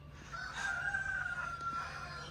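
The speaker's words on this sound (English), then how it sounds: "roosters." A rooster crows in a long, drawn-out call in rural Albania, with other fowl faintly audible over a steady low rural hum.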